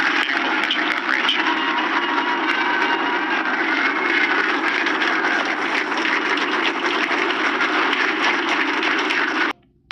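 Rocket liftoff with a continuous broadband engine roar, steady and loud throughout, cutting off abruptly near the end.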